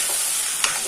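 Ginger, garlic, tomato and chili paste fries and sizzles in a pan with a brief stir, close and steady throughout this short moment.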